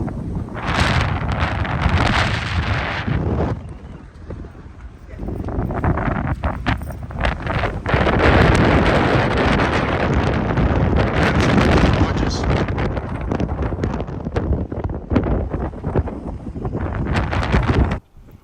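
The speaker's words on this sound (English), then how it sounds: "It's really windy." Heavy wind at Yellowstone National Park buffets the microphone in loud, sustained gusts with brief lulls, roaring across the whole clip.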